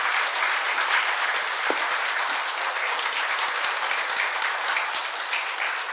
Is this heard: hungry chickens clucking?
no